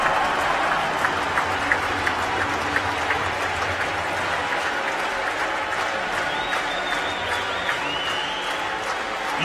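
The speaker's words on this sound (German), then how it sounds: "Jubel im Rosenheimer Kartrhein-Stadion." Ice hockey crowd in the Rosenheim stadium cheering and applauding after a goal in a DEL2 game between Starbulls Rosenheim and SC Riessersee, a loud sustained roar of clapping with scattered horn or whistle tones, steady throughout.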